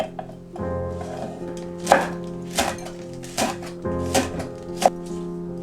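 A kitchen knife slices whole cheongyang chili peppers diagonally into pieces about half a centimetre thick on a cutting board for fish stew, giving six or seven crisp, evenly spaced chops over a faint background hum.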